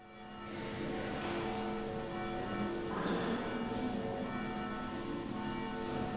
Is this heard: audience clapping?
no